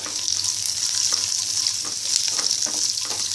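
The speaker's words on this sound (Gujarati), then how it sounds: "એક નાનું બટાકો મેં આ રીતે કાપીને રાખ્યો છે એ ઉમેરીએ ફેરવી લઈશું" Diced potato fries with curry leaves in oil and is stirred around the pan. The sizzle is a close, continuous bright hiss with faint scraping as the pieces are turned.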